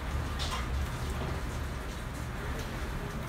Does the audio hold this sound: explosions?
no